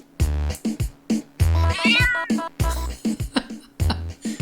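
Cat pounce attack in the video game About An Elf, a string of loud, close meows and yowls in quick bursts, one drawn out into a rising caterwaul.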